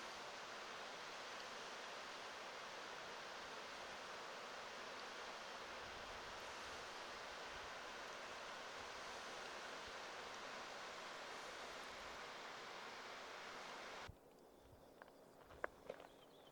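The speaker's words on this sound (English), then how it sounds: "There's the waterfall in that stream." A waterfall in a mountain stream roars as a steady, dense rush of water that stays close and unbroken, then drops off sharply near the end, leaving a few faint knocks.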